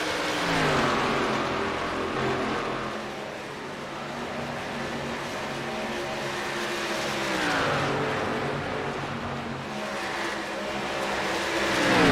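Race cars circle a track during a championship event in Texas, their engines droning and rising in pitch as they pass, swelling and fading in waves at moderate distance with no talk over them.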